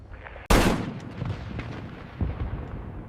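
Anti-aircraft guns fire at incoming V-1 flying bombs. A single heavy, booming blast hits suddenly and rolls out into a long rumbling decay, followed by a fainter second thump, loud and with no voices.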